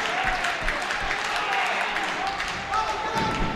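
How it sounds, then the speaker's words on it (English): Wrestling audience at an NWA event coming to life, a continuous murmur of cheering and scattered claps with a few thuds and shouts, moderately loud and sustained under the arena noise. "this crowd starting to respond, coming to life for Chicano"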